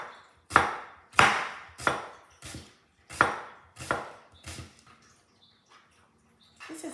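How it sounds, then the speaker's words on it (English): Knife chopping through pork on a cutting board while preparing minced pork, about eight sharp, close cuts in a steady rhythm that loosen and slow toward the end, with no talking. "And then I hold it all together and I'm going to slice it this way."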